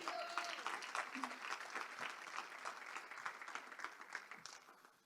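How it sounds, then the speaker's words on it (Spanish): A church congregation gives a round of applause, dense, continuous clapping from many hands that fills the room, with faint voices underneath, gradually thinning and fading toward the end. "Alguien puede darle un aplauso al Señor."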